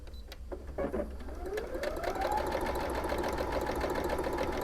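A sewing machine runs steadily, stitching a quarter-inch seam while piecing a grid quilt, its motor hum rising after a brief start and holding a continuous close drone to the end.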